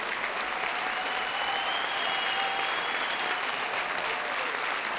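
Sustained applause from a large audience of all ages at a 25th-anniversary folk dance concert by the Gaytan ensemble, honoring a Varna folk dance club, dense steady clapping filling the hall with faint cheers.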